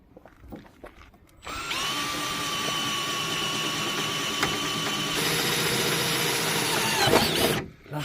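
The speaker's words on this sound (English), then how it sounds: "Right, now the 8mm drill." A power drill fitted with an 8mm bit bores a hole while installing 4x4 work lights. It whirs loudly and steadily for about six seconds after a few brief clicks, then winds down and stops.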